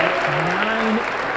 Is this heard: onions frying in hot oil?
no